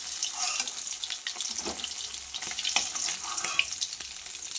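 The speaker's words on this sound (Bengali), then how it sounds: "মাছগুলো তো সব এইভাবে ভেজে নেব" Bhola fish frying in hot oil in a home kitchen, a steady close hiss and crackle of sizzling with small bursts and pops running throughout, no talking.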